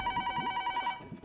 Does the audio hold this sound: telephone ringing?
yes